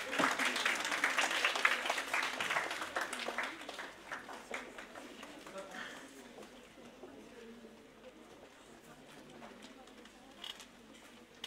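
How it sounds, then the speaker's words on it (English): Applause from a hospital conference audience in Ludhiana, strongest at the start, then thinning and fading out over several seconds into a quieter hall with scattered claps. "Keep on applauding, audience."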